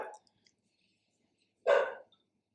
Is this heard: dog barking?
yes